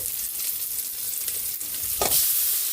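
Tomatoes go into a hot pan for a Filipino chicken dish, raising a steady, close crackling sizzle of frying with a brief louder hiss and spatter near the end.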